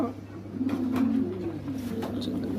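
Lahori fancy pigeons on a farm give soft, low, throaty coos over a steady background murmur, close by and continuous.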